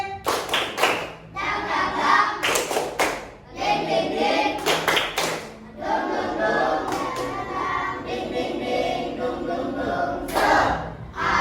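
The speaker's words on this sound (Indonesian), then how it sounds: "Oke, semuanya tepuk semangat." A classroom of pupils does a rhythmic spirit clap, with bursts of sharp claps in a patterned beat. Loud and close, the clapping is mixed with the children's chanting voices.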